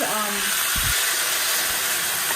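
Hot pepper frying in hot oil in a home kitchen, a steady loud hiss and sizzle throughout, with a brief low knock near the start.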